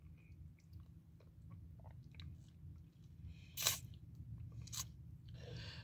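Someone chews gas station breakfast pizza close up, with soft moist mouth sounds and a couple of sharper crunches standing out over a low background hum.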